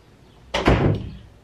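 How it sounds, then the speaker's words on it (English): A household door is pushed shut with a single solid thud and slam, close and fairly loud, after a moment of quiet, then a short fading rattle. "Shut my door."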